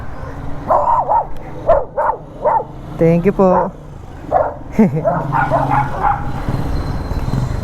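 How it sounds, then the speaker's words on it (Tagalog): A dog gives a few short barks and yips close by, mixed in with people talking over a low engine hum. "Cute ng aso yun."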